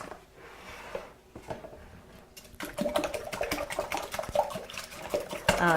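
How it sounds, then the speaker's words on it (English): A wire whisk beats eggs in a bowl: after some quiet handling, rapid rhythmic clicking and sloshing strokes start about midway and continue steadily, close and fairly loud. "So just take a wire whisk and beat up the eggs."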